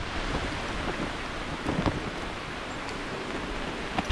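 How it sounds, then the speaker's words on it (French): Steady moderate rain falls in the Guyana jungle, a quiet constant hiss of broadband patter with a few faint louder drips scattered through. "Il pleut pas trop fort, mais là ça a l'air steady."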